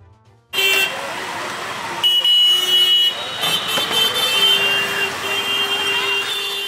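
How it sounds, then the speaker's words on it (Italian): Car horns honk repeatedly amid loud, dense Delhi street traffic, long and short toots overlapping over a constant roar of engines nearby. "è il frastuono dei clacson che ti ricordano di essere arrivato in una delle grandi città asiatiche"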